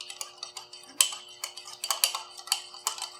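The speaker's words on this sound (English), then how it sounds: "I say give those a little stir first" A spoon stirring butter and sugar together for hot buttered rum, producing quick, light ticking clinks against the vessel in an uneven rhythm, close and fairly quiet.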